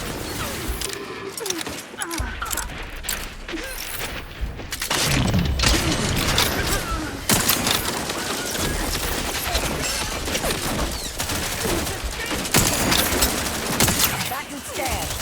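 Sustained gunfire from the video game The Outer Worlds 2 crackles in rapid, dense bursts, with automatic fire, sharp impacts and occasional booms running continuously over a game soundtrack, while voices speak in the mix.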